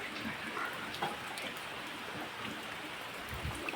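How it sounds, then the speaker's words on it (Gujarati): Steady rain patters down in a continuous hiss, with occasional heavier drops standing out; no voices. "તો જો વરસાદ ચાલુ છે"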